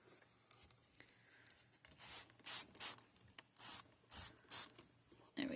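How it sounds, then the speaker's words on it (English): Several short bursts of aerosol spray onto a Corolle doll's dress, each lasting about a third of a second, hissing close by in an uneven sequence with quiet handling noises between. "I should probably spray the dress, too."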